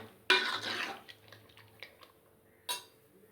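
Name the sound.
stirring cooked dal into sambhar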